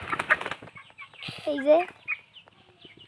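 Farm chickens cluck and flap their wings close by in short, busy bursts, and a person speaks briefly.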